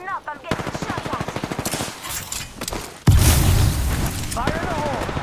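Rapid automatic weapon fire in Apex Legends, a steady rattling stream of shots under a talking voice, then a loud booming blast with continued heavy firing.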